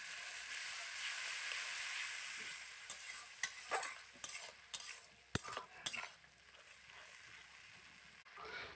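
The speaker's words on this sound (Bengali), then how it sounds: "জল দিয়ে আর একটু কষিয়ে নেব মশলাটাকে" Masala spice paste for Bengali bata fish tel jhal fries in a pan. A quiet hiss sits under irregular scraping and tapping of a spoon stirring, with no speech.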